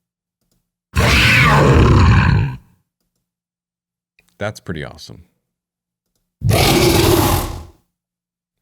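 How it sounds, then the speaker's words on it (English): A monster roar effect for a spider monster: two loud, sustained, raspy roars separated by a burst of clicking, with a brief spoken remark in between. "The first one I want to search for is a roar for the spider monster."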